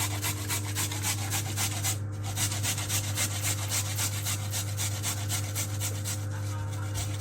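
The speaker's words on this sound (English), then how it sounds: "the next step is to shred the carrot, guys. So I'm shredding the carrot" A carrot is shredded on a grater, a fast rhythmic rasping of steady repeated strokes that continues throughout at moderate loudness, with no voices.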